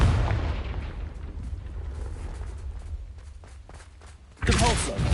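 Confringo blasting spell from the Hogwarts Legacy video game erupts in a loud, sudden explosion near the end, breaking out of a steady rumble of background game noise.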